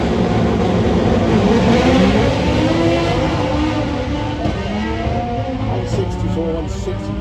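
A doorslammer drag car launches hard down the Santa Pod strip at the European FWD event, its engine roaring loud and continuous with rising revving harmonics, heavy crowd and track noise underneath and faint voices in the background.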